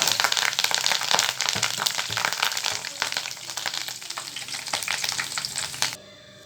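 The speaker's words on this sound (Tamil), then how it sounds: "இப்போ வந்து கருவேப்பிலை கொஞ்சம் போட்டு நான் வறுத்துக்கிறேன்" Curry leaves crackle and sizzle in hot oil in a pan, a dense, steady frying hiss with sharp popping bursts that stops abruptly near the end.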